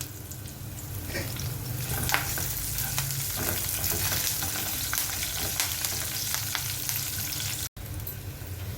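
Curry leaves, garlic, green and red chillies and seasoning seeds sizzle and crackle steadily in hot tempering oil, a dense close frying hiss that runs throughout with a brief cut near the end.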